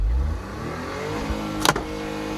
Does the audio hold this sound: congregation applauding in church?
no